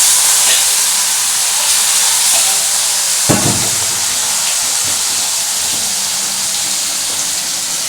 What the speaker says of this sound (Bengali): এই মাছগুলোকে আগে আমি মাছে ভাজবো।